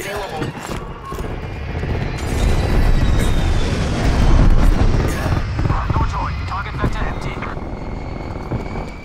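Enemy aircraft spin up in Call of Duty: Black Ops Cold War, a whirring helicopter-like rotor drone that swells louder, then fades, over the clatter of gameplay effects, with a voice speaking over it.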